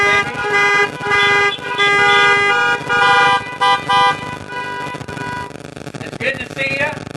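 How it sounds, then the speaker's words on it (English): Several car horns honk in the parking lot of an Easter Sunday drive-in church service, long overlapping blasts in repeated bursts, close and loud, then fading to lighter toots. "Honk your horns"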